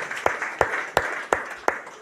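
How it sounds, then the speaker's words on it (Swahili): A church congregation claps in unison, five sharp, evenly spaced hand-clap bursts about a third of a second apart, each with a short ringing tail in the room, with no talk over them. "Piga makofi kwa ajili yao"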